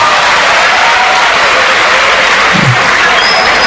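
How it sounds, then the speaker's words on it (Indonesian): An audience breaks into loud, continuous applause at a government meeting, a dense, even roar of clapping sustained from start to finish. "Iya, tepuk tangan."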